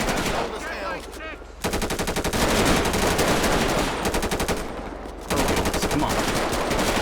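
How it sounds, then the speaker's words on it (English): Automatic gunfire in GTA 5 with the LSPDFR police mod, SWAT units engaging a suspect: two long, loud sustained bursts of rapid machine-gun fire separated by a short pause, with faint game sounds in the quieter gaps. "Let's see if we can open up fire on him right now."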